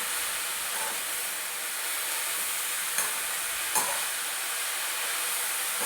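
Spinach frying in a pan sends out a constant, loud sizzle and steam hiss, broken by two brief scrapes of stirring.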